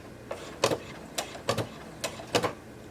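A domestic sewing machine back-stitches fabric during a beginner's clothing alteration, making about six short, fairly quiet whirring bursts with brief pauses between them.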